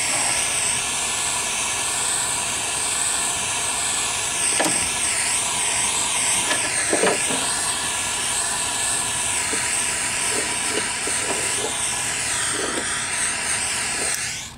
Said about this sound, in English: Using it as a torch for heat shrink